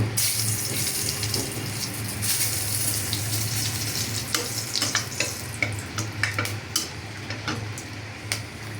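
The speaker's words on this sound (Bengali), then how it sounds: "তার তেলের মাঝে আমি 2টা শুকনা মরিচ দিলাম" Two dried chillies sizzle in fish oil left over from frying, a steady crackling hiss that carries on alone with small sharp pops near the end.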